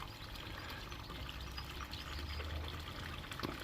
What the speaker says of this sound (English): so that's the sort of bubbles I'm getting at the moment.